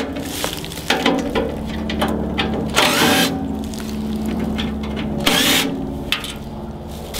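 A power drill whirs in short bursts, backing Phillips screws out of the cover of a kinetic wood splitter, with ratcheting clicks and metallic clatter close by.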